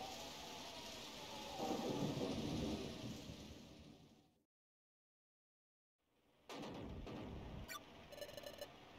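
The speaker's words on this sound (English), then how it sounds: "It looks like it's really stormy tonight." Thunder rumbles through a stormy night scene in Pokemon Mystery Dungeon Explorers of Darkness, a loud rolling swell that cuts to brief silence before crackling storm noise returns, no voices.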